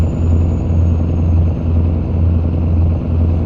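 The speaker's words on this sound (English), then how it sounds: "every once in a while you can hear the turbo kicking in" A heavy truck engine in a trucking simulator game drones steadily at cruising revs, with a pulsing low tone rising and falling in regular waves and a faint high turbo whine above it, with no talk.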